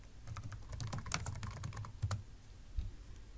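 Fingers type quickly on a computer keyboard, a close, soft burst of irregular key clicks followed by a couple of isolated taps, no voices.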